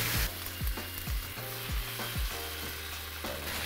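Cabbage stir-fried for fried rice sizzles steadily in a hot pan, with a rhythmic series of tossing scrapes and thumps roughly every half second, close and loud.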